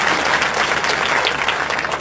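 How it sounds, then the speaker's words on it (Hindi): Loud, dense applause from an audience at a Hindi kavi sammelan poetry recital, a continuous clatter of many hands clapping close by with no voices over it. "पर जोरदार ताली"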